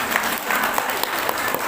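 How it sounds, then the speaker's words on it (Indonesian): Brief, dense burst of audience clapping during a parenting lecture, full and steady throughout, with voices mixed in beneath the applause. "tepuk tangan untuk ayah."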